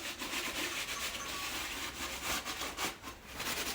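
A cloth rubs and wipes across the metal of an engine sump from a Toyota 3UZ V8 during a strip down, a soft continuous scrubbing with faint irregular strokes and no voices.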